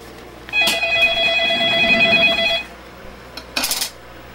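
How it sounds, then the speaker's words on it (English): A telephone rings once with a bright electronic trill lasting about two seconds, followed by a brief clatter. "And the phone is ringing"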